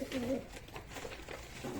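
Pigeons coo softly nearby, a low warbling call at the start and again faintly at the end over quiet background noise.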